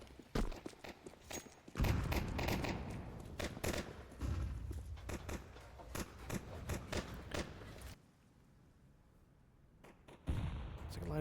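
Decoy grenades mimicking gunfire in a Counter-Strike match: many sharp cracks and booming shots in irregular clusters, some loud and close, then a brief lull before firing resumes.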